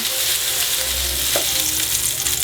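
Veal escalopes sizzle in a hot frying pan, a continuous bright frying hiss with a brief scrape of a utensil partway through and no voices.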